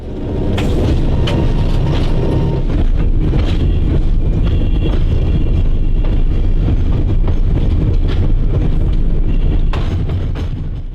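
An ALCO S-2 diesel switcher locomotive rolling along rails, with a steady loud low rumble and rattling wheel noise throughout, some wind buffeting on the microphone, and no one talking.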